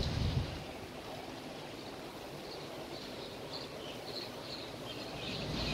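Sea wind and distant surf at Cha-am beach, heard from a 15th-floor hotel room, form a steady, soft broadband hiss with gentle swells and no voices.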